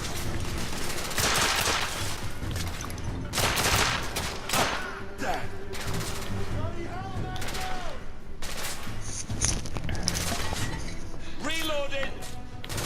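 Shotgun blasts and scattered gunfire in The Order: 1886, a dense run of loud, close booming shots with clinking and shattering debris, kept up throughout under steady talking.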